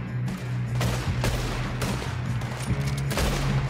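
Gunfire crackles in Red Dead Redemption 2, with several sharp shots in quick succession over a constant low rumble. The loud reports come at uneven intervals across a few seconds, with no speech.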